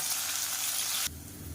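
Bay leaf, mint, coriander and curry leaves sizzle loudly in hot oil in a pan. The hiss is steady and close, then drops abruptly to a softer fry near the end.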